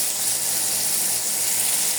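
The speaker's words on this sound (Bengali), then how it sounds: "এভাবে ভালো করে ভেজে নেবেন।" Tomatoes fry in a hot pan with a steady, loud, close hiss of sizzling oil that holds level throughout, with no voices.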